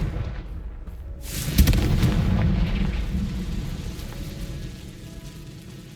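An explosive Confringo spell blast in the Hogwarts Legacy video game lands as a deep, booming impact, followed by a long rumbling decay that fades slowly over several seconds.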